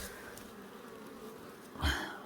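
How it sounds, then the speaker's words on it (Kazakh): Honeybees buzz steadily at the entrance of hives in a large apiary in Kazakhstan, a faint, continuous drone with a brief louder swell as a bee passes close by. "аралар жұмыс жасап жатыр. Алдына тұруға болмайды негізінде, өйткені кіріп шығады ғой"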